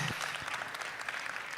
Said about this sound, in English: A round of applause to him. Makofi tafadhali.